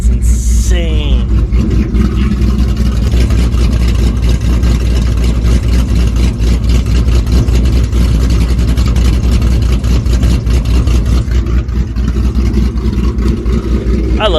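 Shelby GT500 with Pypes exhaust cutouts opened, its V8 producing a loud, deep, steady rumble that runs unbroken from start to finish.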